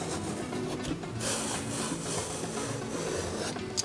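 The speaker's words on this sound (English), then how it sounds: "The first thing I'm going to do is peel and chop one large eggplant into" A knife scrapes and cuts steadily through a large eggplant on a wooden board, a continuous close rasping and rubbing texture with no clear separate chops.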